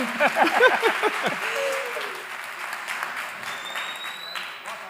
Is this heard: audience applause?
yes